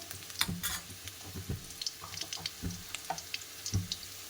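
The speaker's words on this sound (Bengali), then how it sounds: "আলুটাকে প্রথমে ভেজে নিচ্ছি" Potatoes frying in a pan, a quiet sizzle broken by scattered stirring knocks and scrapes at an irregular pace, heard alone without speech.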